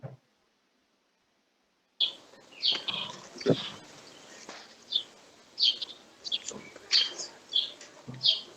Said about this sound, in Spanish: apareció un pajarito, antes era un grillo, ahora un pajarito